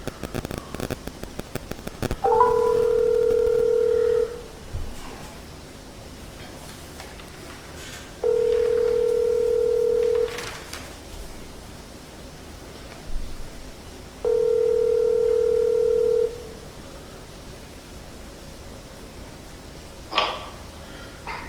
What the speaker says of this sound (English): let's go ahead and get Malik on the phone now